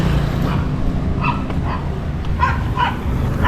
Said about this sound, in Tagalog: Takot si Ira kasi may aso.